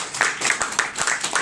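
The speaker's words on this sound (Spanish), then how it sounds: "Un fuerte aplauso para Alejandro." Sustained audience applause at a poetry reading, with many overlapping hand claps, dense and lively throughout the short burst.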